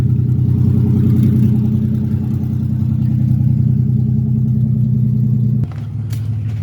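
An Acura Legend engine with an open race header idles while warming up with a steady low rumble, loud and continuous, then shifts slightly lower in pitch near the end.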